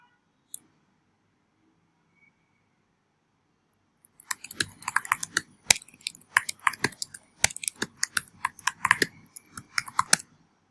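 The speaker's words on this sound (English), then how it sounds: "So now you can see that I typed on Google." Typing on a computer keyboard: after a near-silent start with one faint click, a rapid, close run of key clicks and taps continues for several seconds, no talk.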